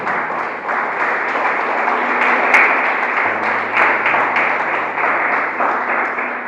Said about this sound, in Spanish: Denle un aplauso al Señor si lo crees